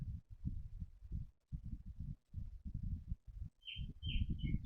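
A sewing machine stitches zari thread onto a garment neck design, running in short bursts of rapid, low thumping separated by brief pauses, with faint bird chirps near the end.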